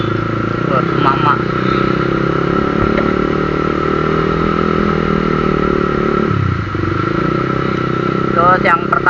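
A Honda CBR 150 motorcycle engine idles close by and steadily, with the throttle blipped briefly near the end, while someone talks over it throughout.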